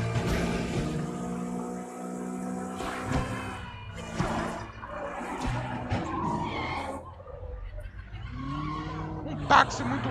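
Car engine roar and squealing tires from a taxi skidding around in the video game Sleeping Dogs, with shifting revs and crashes mixed under game voices.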